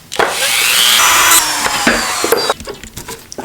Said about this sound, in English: just grind down the back to make clearance for the seal